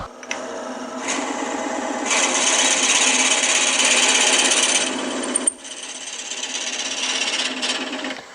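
A power drill with a 7/8 inch bit bores about an inch into a twig for a vase, with a loud, grinding whir, pausing briefly midway before starting again; close and continuous.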